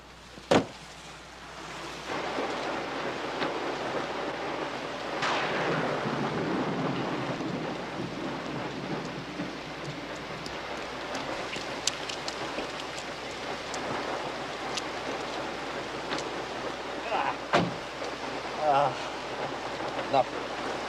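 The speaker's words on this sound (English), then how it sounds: "You don't like driving in heavy rain." Steady heavy rain hisses throughout, with low rolling thunder swelling early on and a few sharp cracks and knocks along the way.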